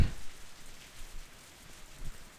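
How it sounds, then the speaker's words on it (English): Rain patters steadily on a rooftop in the Higurashi video game, a soft, even hiss of drops with light splashes, fairly quiet and with no voices. "I heard the sound of rain pattering on the rooftop and the raindrops jumping into puddles."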